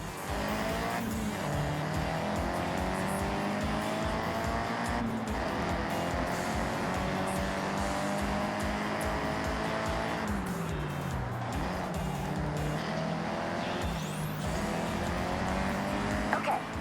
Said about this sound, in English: if I can slide a car around a corner, I probably will